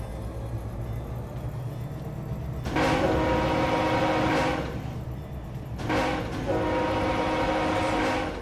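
An ATSF locomotive in the Run 8 train simulator sounds its whistle during yard work at Malabar Yard, two long horn blasts over a steady diesel engine rumble.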